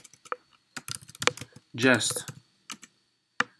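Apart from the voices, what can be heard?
typing on a computer keyboard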